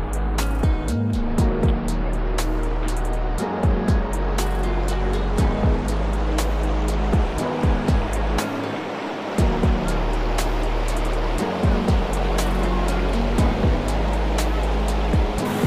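Fast river water rushes loudly and continuously at Dawki in Meghalaya, close and steady. Sharp clicks and knocks recur through it.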